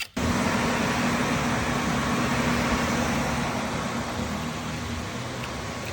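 A big-turbo BMW 340xi drag car, converted to rear-wheel drive with its transfer case unplugged, runs on a dyno, giving a loud, steady, close roar that starts abruptly and holds without a break.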